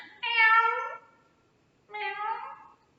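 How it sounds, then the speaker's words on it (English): Two distinct cat meows, clear and close, the first longer, followed by a shorter second after a brief pause. "It's a cat. There's Garfield the cat."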